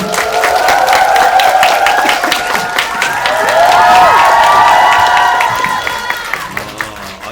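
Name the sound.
audience applause and cheering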